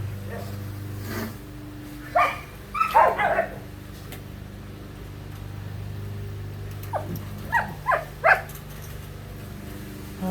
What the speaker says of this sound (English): That's some dogs fighting over a stick